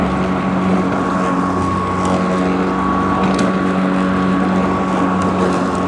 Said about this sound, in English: This grass is kind of hard to mow.